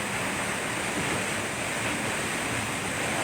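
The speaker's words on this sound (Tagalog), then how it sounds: "Ito na yung falls." A waterfall in Mindoro roars as a dense, continuous rush of falling water, loud and close, with no break and no voices.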